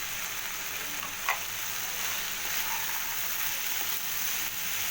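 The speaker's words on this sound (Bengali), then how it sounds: "এবার চালটা এর সাথে খুব ভালোভাবে নাড়াচাড়া করব।" Gobindobhog rice, fried in ghee, is stirred through a mixture in a pan, giving a steady close sizzle and scraping with one brief knock near the start.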